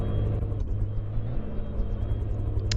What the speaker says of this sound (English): Apologies for the engine noise, by the way,